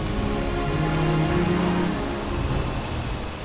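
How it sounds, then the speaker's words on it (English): Rain falls in World of Warcraft Shadowlands as a steady, dense hiss of drops that keeps an even level throughout, with faint tones underneath. "That's odd. We weren't expecting rain."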